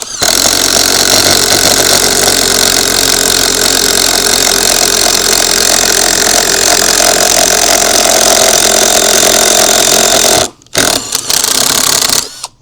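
A loud Ozito 18V impact driver runs continuously with a harsh rattling drone, hammering in a bit, cutting out briefly near the end before starting up again.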